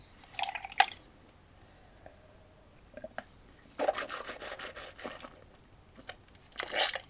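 Water runs over an electric toothbrush head as it is rinsed under a tap, coming as a few short splashy bursts with quiet gaps in between, close by and with no talking.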